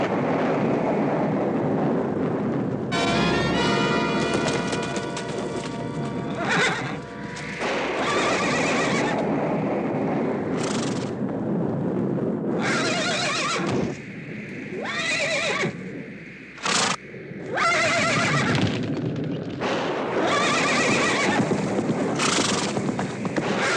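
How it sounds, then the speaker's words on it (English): A horse whinnies loudly several times, with clopping hooves and rustling movement throughout, close to the listener. "It's the horse."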